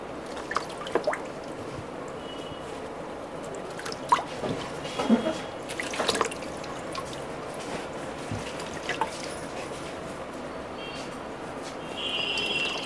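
Water poured over a 9H tempered glass screen protector to wash off dust: soft trickling and scattered drips at low level, with a few sharper splashes through the middle.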